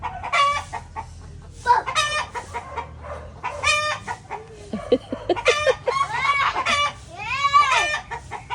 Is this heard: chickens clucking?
yes